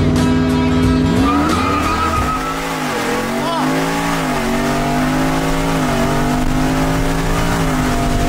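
Boosted sleeper Ford F-150 pickup truck accelerating hard on the road, a loud sustained engine roar climbing through the gears with a faint exhaust pop, tires squealing near the start.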